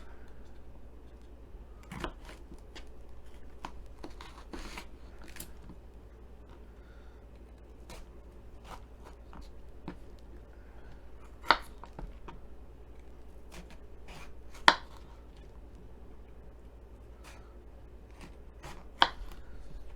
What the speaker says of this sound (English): It's probably safer to cut the pepper on the board, but if you're comfortable with a knife, you could probably cut them however you feel.